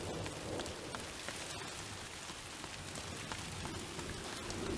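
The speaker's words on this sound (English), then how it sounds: "it is raining, it is hailing, and it is thundering and lightning." Heavy rain pours steadily on a mountain hike in Wyoming's Wind River Range amid a thunderstorm with hail, a dense continuous hiss with faint low rumbling beneath.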